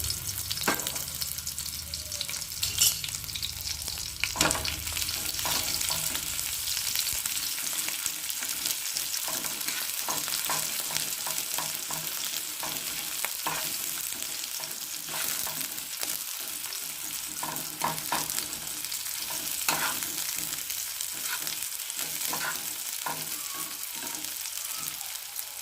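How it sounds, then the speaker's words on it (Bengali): Sliced onion fries in oil on a tawa, a continuous close sizzle with occasional stirring scrapes that stays steady throughout. "একটা কোচানো পেঁয়াজ দিয়ে পেঁয়াজটা ভালো করে ভেজে নেব।"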